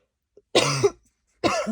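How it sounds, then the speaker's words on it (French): Two harsh, close coughs separated by a short pause, the first a double burst, in an otherwise quiet room. "Ça y est, je vais me mettre à tousser."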